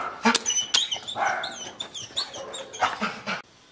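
A female pit bull wearing a muzzle whimpers in high, wavering whines between quick panting breaths. The sounds come close and fairly loud, in short bursts with no talk.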